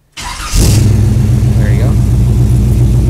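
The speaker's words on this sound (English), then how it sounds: "Okay, we'll go to fire the truck up now," A pickup truck with an electric choke cold-starts on the first crank, with a short starter whir, and then settles into a steady, loud, rumbling idle that is close by and fills the rest of the clip.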